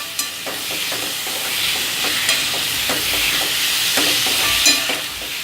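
Crushed small shallots sautéing in hot oil for mutton curry, a steady close sizzle with repeated scraping stirs of a spatula against the pan, no talk.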